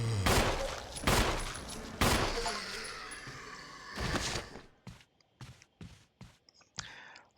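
Gunshots in Resident Evil Remake: several heavy, booming shots about a second apart with long echoing tails, followed by a quick run of sharper, shorter cracks and clicks, fairly close.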